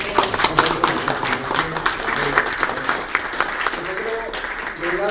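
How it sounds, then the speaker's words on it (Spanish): An audience at a memorial ceremony claps steadily for several seconds. The applause is dense and sustained, with voices mixed in. "Vamos un aplauso"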